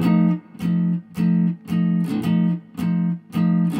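Guitar chords approached from a half step below, in a jazz-blues rhythm style, strummed in a steady pattern of short repeated stabs with brief gaps between them, close and clear with no talking.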